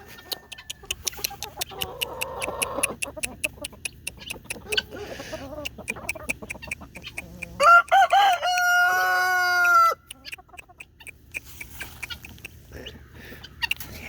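Black Marans and Easter Egger chickens in a hooped coop, a rooster crowing loudly with a long drawn-out call in the middle, surrounded by scattered clucks and bird chatter, with a person shouting briefly.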